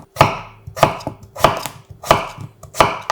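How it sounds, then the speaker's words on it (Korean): A knife chops through peeled potato onto a cutting board in 1 cm thick slices, five or six sharp evenly spaced cuts, close and crisp with no talking. "1cm 두께로 변썰어"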